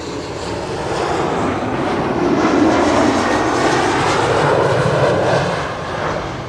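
A KLM airliner comes in to land on Kaagbaan 06 at Schiphol, its engines a broad, steady roar that swells toward the middle and eases off slightly at the end, with no voices over it.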